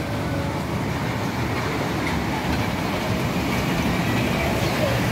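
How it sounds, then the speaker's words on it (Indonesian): A steady rumbling children's electric ride-on train at Ragunan, Jakarta, hums and rattles continuously at moderate volume, with no pauses and a busy background. "Permainan wahana kereta listrik ini akan berkeliling sekitar 3 kali putaran dalam 1 kali permainan."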